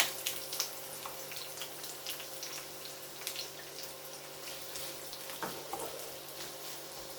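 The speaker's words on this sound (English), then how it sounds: "So that's your onions going in first." Onions going into a hot pan: a faint, steady sizzle and crackle with small spatters throughout, fairly distant and continuous, with no speech.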